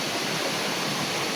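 A river stream rushes over rocks along a rugged jungle trail, a dense, steady wash of flowing water heard close and continuous without pause.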